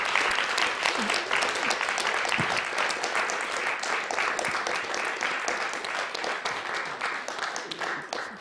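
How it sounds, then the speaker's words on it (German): Audience applause sends off a guest at a panel event on organic farming and sustainability: a dense, steady wash of many hands clapping, sustained at even loudness throughout. "Bitte verabschiede den Lorenz mit einem Applaus."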